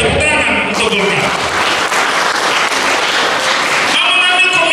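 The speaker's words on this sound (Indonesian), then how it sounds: "Tepuk tangan untuk Golkar." Loud, sustained applause from an audience at a Golkar party Christmas and New Year celebration in Nias Barat fills the whole stretch, with a brief voice at the start and end.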